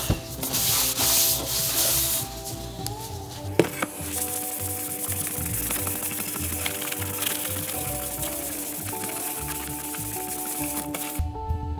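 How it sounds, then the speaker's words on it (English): Sandpaper of 320 grit rubs steadily over a wooden guitar body in a close, continuous scratchy hiss, with a sharp knock partway through and faint background music underneath. "We sanded the body and neck once with 320, wet the wood down to let the grain swell, let that dry, sanded it a second time with 320,"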